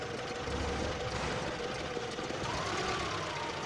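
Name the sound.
old engine running with choke throttle fully opened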